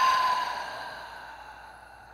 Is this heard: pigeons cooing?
no